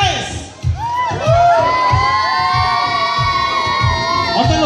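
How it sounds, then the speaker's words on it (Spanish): Children shout and cheer loudly at a quinceañera surprise gift celebration. The high excited voices whoop and rise together, sustained and close, over a thumping music beat. "A la cuenta de tres le vamos a hacer todo ruido a San Juanita para que abra su regalo sorpresa."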